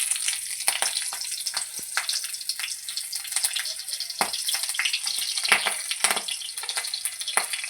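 Five-spice seeds and slit green chillies crackle and sizzle in hot oil, a dense continuous frying hiss with scattered sharp pops, close and fairly loud, no voices.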